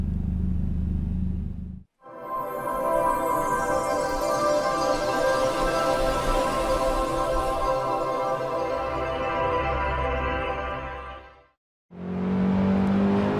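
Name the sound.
BMW M3 E30 racing on Nordschleife, video game Assetto Corsa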